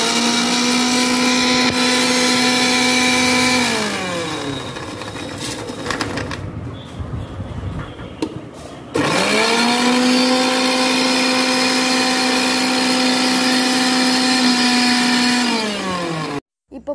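An electric mixie grinder whines loudly in a home kitchen while preparing a peanut and drumstick-leaf poriyal. It spins up, runs, winds down, pauses briefly, then starts again for a second long run before stopping.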